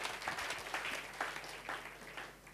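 A church congregation applauds during a sermon, a steady wash of many hands clapping at a distance, faint and even, without voices over it.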